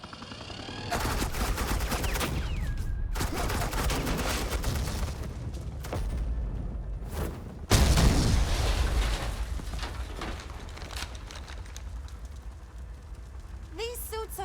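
Rapid bursts of gunfire from Agent Quinn laying down suppressing fire in the Batman: The Enemy Within video game, loud and dense over several seconds, with a sharp heavier blast midway and game voices talking throughout.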